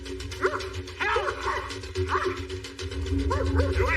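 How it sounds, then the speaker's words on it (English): A German Shepherd barks repeatedly in loud, spaced bursts over a steady low rumble and background noise, near a fenced property line. "Dean's German Shepherd gets out and races towards Jeffrey"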